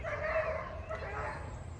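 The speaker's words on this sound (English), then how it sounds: "Got some dogs barking over on the trail across the pond." Dogs bark in the distance from a trail across a pond in an upstate South Carolina back yard garden, faint and continuous under outdoor ambience.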